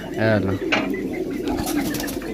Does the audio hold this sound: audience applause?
no